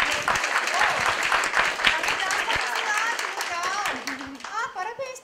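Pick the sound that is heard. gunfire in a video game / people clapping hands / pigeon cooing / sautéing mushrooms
people clapping hands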